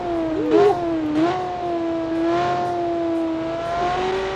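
A quick rear-wheel-drive, rear-heavy 2020 light sport car in BeamNG revs and accelerates with a loud, steady engine drone that rises briefly in pitch as it shifts, with no talk over it.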